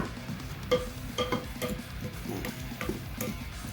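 A marinade being stirred in a bowl, a close run of soft wet swishes with light clinks of the utensil against the side, steady and fairly quiet.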